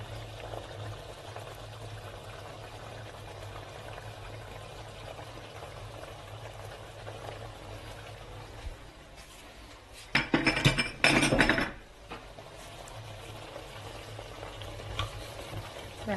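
A Catalan fricandó stew simmers with a low, steady bubbling, then picada is added and stirred in with a louder burst of scraping and sizzling lasting about two seconds before the stew settles back to a quiet simmer.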